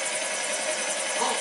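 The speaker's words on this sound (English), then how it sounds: "Everybody's getting scared just because the helicopter's taking off." A helicopter taking off in a GTA video game, heard as a steady, dense rotor and engine roar that stays loud and even throughout, with no talk over it.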